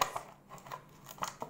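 Several quiet, crisp snips of scissors cutting through a thin plastic cheese container come in a short irregular series, close and soft, with no talking.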